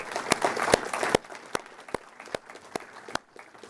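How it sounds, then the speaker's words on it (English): A brief burst of crowd applause at an awards ceremony, honoring dogs and their handlers, quickly thinning to a few scattered, sharp claps. "So a quick round of applause for them."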